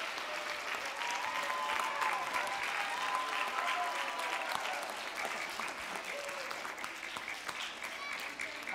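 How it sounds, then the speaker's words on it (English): An audience at a live drawing talk applauds steadily, a dense wash of clapping hands that holds evenly throughout at moderate distance, with no talking over it. "So you can all clap."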